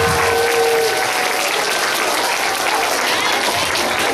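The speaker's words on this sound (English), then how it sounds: "Give them a round of applause." An audience applauds after a children's school play, a loud, dense wash of clapping from a crowd that holds steady throughout, with no voices standing out.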